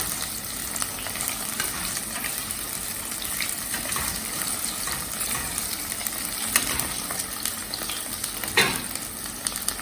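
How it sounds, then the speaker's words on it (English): Potatoes sauté in a pan for khichdi, giving a loud continuous close sizzle and crackle with occasional stirring scrapes and small clatters, with no voices. "So first aloo, okay? If you saute it, उसको अच्छे से भूनोगे, तब स्वाद ज़्यादा अच्छा आएगा."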